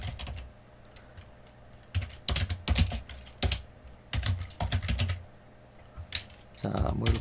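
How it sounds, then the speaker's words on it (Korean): Computer keyboard keys clatter in several quick bursts of typing, close and crisp, separated by short pauses while variable names are entered in C code. "그냥 키보드로 변수명을 타이핑을 해도 됩니다"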